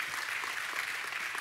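Congregation at a church sermon breaks into steady applause, a dense, moderately distant wash of clapping that holds evenly throughout without speech on top.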